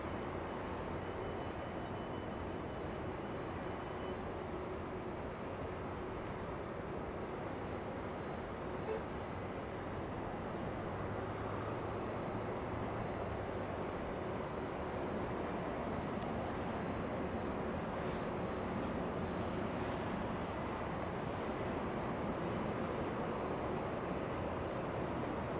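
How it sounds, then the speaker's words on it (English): An Aeromexico Boeing 737 MAX 8 jet takes off from LAX toward Mexico City, a long, faint, distant roar that holds steady and slowly swells, with no voices. "Aeromexico getting a move on, flying to Mexico City, a MAX 8"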